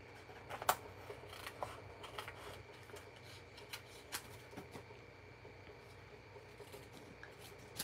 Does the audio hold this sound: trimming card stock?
yes